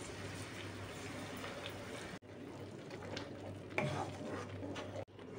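Milk-based white sauce stirred in a pan with chili flakes, chili powder and salt, a steady low sizzle and scraping of the spoon running throughout, briefly interrupted twice.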